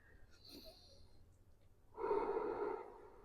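Quiet, close breathing during a chest myofascial release exercise: a soft, faint intake, then a longer, louder, rasping exhale.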